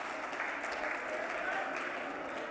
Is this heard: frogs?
no